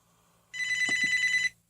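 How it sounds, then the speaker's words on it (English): A telephone rings once in a studio during a talk show, a single loud electronic trill lasting about a second, close and clear with no speech over it. "Phone call."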